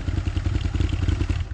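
Motorcycles at an outdoor bike rally, their engines idling and revving in a steady, close, rumbling clatter with no pauses.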